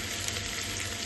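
Potatoes and onions fry in a pan, giving a brief, steady close sizzle without any talk.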